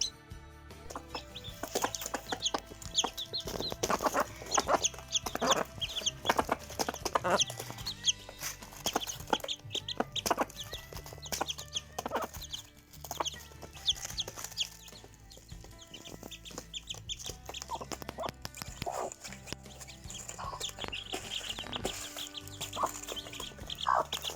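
A hen clucks steadily beside newly hatched chicks that chirp and peep constantly. The calls come in busy, overlapping bursts close to the listener for about twenty-four seconds, and no speech is heard.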